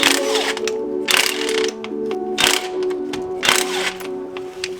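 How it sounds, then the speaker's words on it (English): Ratchet wrench cracking loose the four 12mm crank pulley bolts on a Mitsubishi Evo 4G63 engine in the car, a series of rapid clicking bursts of ratchet teeth with short pauses between, close and clear. "now we're gonna crack the 4 12mm bolts on the crank pulley"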